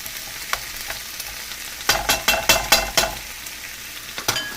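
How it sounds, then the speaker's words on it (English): Shrimp and tomato hit a hot pan for Thai shrimp with chilies and basil, a steady sizzle broken by a burst of sharp, clattering stir strokes in the middle and one more near the end, close and loud. "I'm going to add the shrimp and the tomato. This is where it gets real quick."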